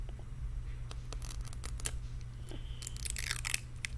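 A packaged mini toy is unwrapped close up, with quiet crinkling, tearing and scraping packaging noises in irregular bursts over a low steady hum.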